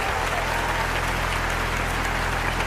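Audience applause at a Hindi kavi sammelan poetry recital, a dense steady wash of clapping from a crowd that holds evenly throughout, without speech over it.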